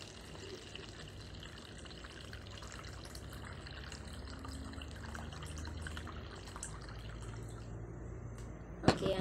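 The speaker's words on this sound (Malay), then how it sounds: "Okey, masukkan air separuh." Water poured into a container until half full for a school floating-and-sinking experiment, a faint, steady splashing trickle in a quiet room, ending with a sharp knock.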